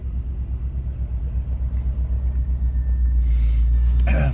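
1975 Citroen DS23 Pallas with a fuel-injected engine and semi-automatic gearbox, driving with a loud, steady low engine rumble heard from inside the car. A brief burst of wind or road noise comes near the end.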